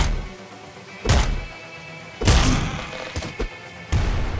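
Shovel melee hits in the video game Nuclear Throne: several heavy, punchy thuds and whacks spaced about a second apart, loud and close, with no talking.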